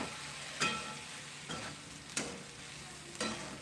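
Vegetables with crushed peanut powder sautéed in a pan, a faint steady sizzle broken by four spaced scraping strokes of a spatula, each one louder than the hiss.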